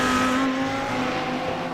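Race car engine at Bathurst 12 Hours dropping through a downshift, a loud continuous harmonic engine note with a slight pitch shift, close and alone.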